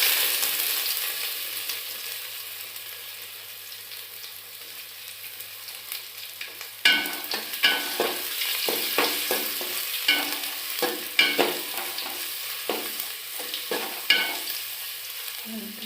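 Panch phoron and ginger fry in a pan with a soft sizzle; after a quiet stretch, the steady frying gives way to repeated scraping of a spoon stirring through the hot oil.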